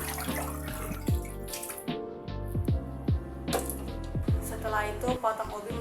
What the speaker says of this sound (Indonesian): Setelah itu buang airnya.